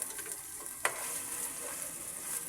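Ginger-garlic paste and onion paste fry quietly in a pan for a beef and vegetable curry, a soft steady sizzle broken by one sharp stirring scrape.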